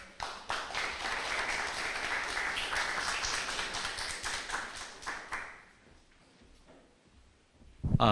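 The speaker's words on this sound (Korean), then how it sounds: "큰 박수로 환영해 주시면 감사하겠습니다" A crowd at a logistics conference claps loudly and steadily for several seconds, then the applause fades out and the room goes quiet before a burst of noise at the end.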